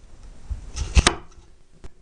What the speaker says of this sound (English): Then take about 2 layers at a time, chop it once across, and then chop it like that.